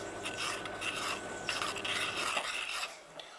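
Powder being stirred and mixed for a fake bake, a steady raspy scraping and rubbing that runs continuously at close range, fading slightly near the end.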